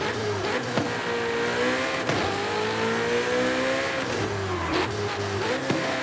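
A high-powered race car engine revs hard and climbs through gears, each shift dropping the pitch before it rises again, loud and close with brief tire noise.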